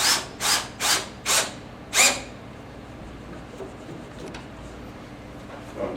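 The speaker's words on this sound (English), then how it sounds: "Then you're just going to tighten these bolts down until they're" Bolts on a Woodard sling chair frame are driven snug with five quick, evenly spaced ratcheting bursts in about two seconds, then only faint background noise remains. Nobody speaks.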